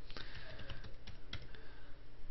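Keys tapped on a computer keyboard while a passphrase is entered, a run of quick, light clicks at close range over steady background hum, with no talking.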